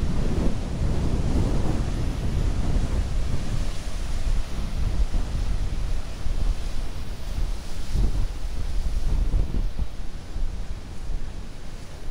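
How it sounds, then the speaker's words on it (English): Huge ocean waves crash against the Cornwall coast near Land's End in strong wind, a loud continuous roar of surf with wind buffeting the microphone and surges of heavier breakers, with no voices. "Oh, these waves are just phenomenal."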